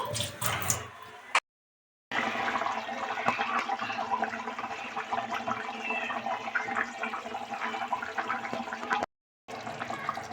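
A fairly generous amount of water is poured into a simmering pea and potato curry, making a continuous splashing, gurgling rush that cuts out briefly twice.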